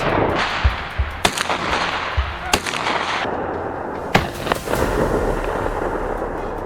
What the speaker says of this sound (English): The bullet tore through the air with deadly precision